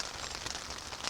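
Rain falls steadily and densely on a hike along the Southern Upland Way. The patter is continuous and close, with no talking.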